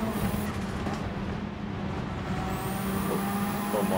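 Rally cars race at Sardinia Windmills in Gran Turismo 7, a steady, dense engine roar with gravelly road noise that runs unbroken and close.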